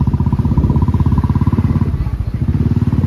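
A motorcycle engine chugs close by in a fast, steady pulsing rhythm, loud and continuous as the bike climbs uphill under load.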